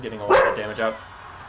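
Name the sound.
dog barking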